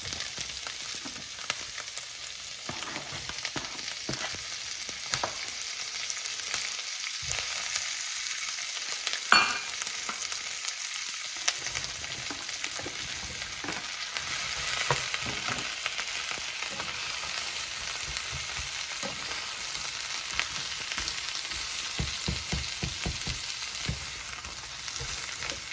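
Vegetables frying in oil with Angus beef for a black pepper steak stir-fry, heard as a steady dense sizzle with scattered crackles and utensil stirs throughout, close and even, no speech.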